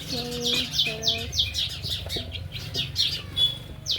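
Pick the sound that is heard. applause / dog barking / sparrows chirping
sparrows chirping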